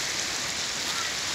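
Heavy rain with hail pouring down in Kathmandu city, a dense, steady hiss of drops striking surfaces, continuous and fairly close with no talk.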